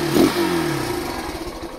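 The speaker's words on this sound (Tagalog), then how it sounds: "Smooth pala yung throttle kasi single cable." Motorcycle engine with a single-cable throttle, revved once in a quick blip near the start and then settling back to a steady, smooth idle hum, close by and alone.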